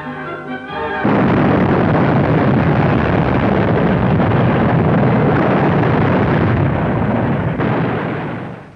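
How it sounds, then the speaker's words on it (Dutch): A small dynamite blast in a bauxite mine in Suriname erupts suddenly after a second, followed by a sustained heavy roar of debris and rumble that slowly fades near the end. "Wat dynamiet zorgt dan voor een kleine ontploffing."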